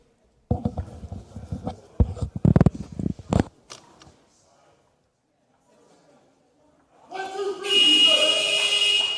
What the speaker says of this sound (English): that's the final buzzer